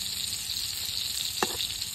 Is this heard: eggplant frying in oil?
yes